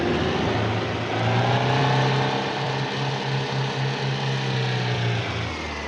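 A car engine in a video game sustains a steady mid-pitched hum that holds for several seconds and drops off near the end, its tone shifting slightly as the revs change.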